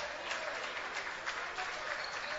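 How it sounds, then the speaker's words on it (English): A college team bench applauds a made free throw at a men's basketball game against Randolph, a steady patter of clapping hands in a fairly thin-sounding gym, with faint voices underneath. "Randolph bench applauding."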